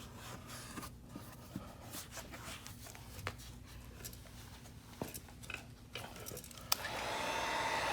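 A heat gun blows hot air over headlight tint overlay film on a 2011-14 Dodge Charger, giving a steady airy hiss that swells louder near the end, with faint scattered handling noises.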